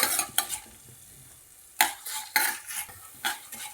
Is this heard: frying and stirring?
yes